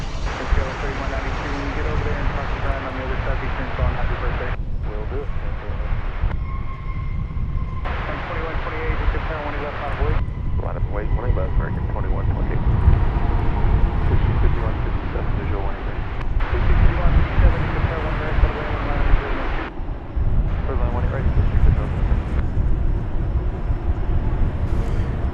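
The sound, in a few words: American Airlines Boeing 737-800 landing on runway 18 right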